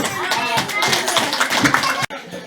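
A church congregation claps hands together at a Christmas Day service, a dense, steady patter of many palms that fills the room for about two seconds, then breaks off abruptly.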